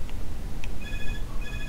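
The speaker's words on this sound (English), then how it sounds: "I always forget I have a home phone until it rings." A home landline telephone rings indoors with electronic tones that start partway through and break off briefly before sounding again. The ringing is fairly loud over a low background hum.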